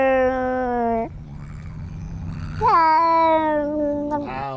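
Cat meowing and yowling in long, drawn-out wails, loud and close, with pitch sliding and wavering across several sustained cries separated by short gaps.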